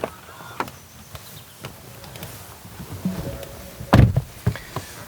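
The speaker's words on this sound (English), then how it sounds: "You're admitted via a weird door e-latch." The electronic door latch of a Ford Mustang Mach-E electric SUV releases with a soft motorized whir followed by a sharp clunk and thud as the door opens, heard close and alone.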